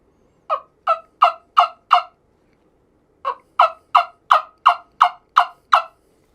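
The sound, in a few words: wingbone turkey call imitating turkey yelps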